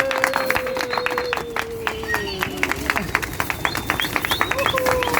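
A crowd applauds outdoors as 500 pigeons are released into the sky, with scattered claps throughout under a loud voice speaking over a crowd murmur.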